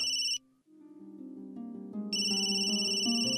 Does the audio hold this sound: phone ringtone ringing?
yes